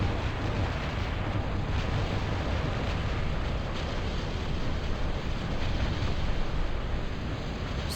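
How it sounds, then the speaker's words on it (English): Artillery fire and explosions in a 3v3 Total Annihilation Escalation battle on the Corrupted Hills map, heard as a loud, continuous, dense roar of overlapping blasts with no break and no talk. "Look at the withering fire flying into Red's base."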